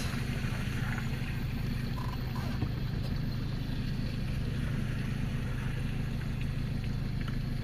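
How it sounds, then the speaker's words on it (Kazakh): Heavy machinery, tractors clearing a mudflow-blocked road at Kara-Kulja after heavy rain, rumbles as a steady low engine drone with a broad noisy wash above it, continuous and fairly distant, with no talk. "Анчасын тракторлар иштеп атат."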